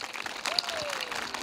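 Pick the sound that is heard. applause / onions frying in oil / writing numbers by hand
applause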